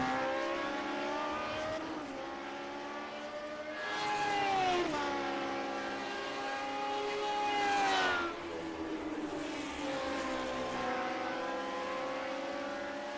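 Race cars circulating at Spa during a Daredevil Series round, engines holding steady harmonic notes that shift in pitch as the cars brake and accelerate, with a louder pass near the middle and toward the end.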